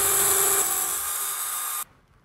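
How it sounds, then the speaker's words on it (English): A power drill bores a hole in drywall for a wall anchor while patio decorations are hung, giving a steady, close, high-pitched whir that runs for almost two seconds and then stops abruptly. "Drill out the hole."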